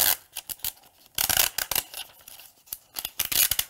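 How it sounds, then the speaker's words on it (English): Infusible ink transfer sheet peeled off a fabric tote bag in repeated crisp, rasping tears, short bursts with pauses between them, close and loud with no talk. "just peeling infusible ink all day"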